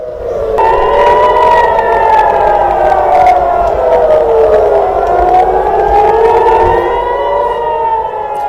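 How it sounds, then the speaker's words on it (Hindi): Loud wailing air raid sirens in Tel Aviv during an Iranian missile attack, rising and falling in pitch, several overlapping, sounding continuously and filling the air. "तेल अवीव और दूसरे शहरों में आज दिन भर सायरन बजते रहे"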